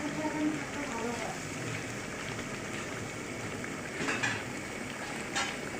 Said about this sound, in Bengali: মশলাটা ভালো করে কষাতে হয়।